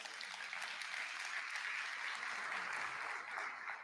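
An audience applauds steadily, a dense wash of clapping that stays even throughout.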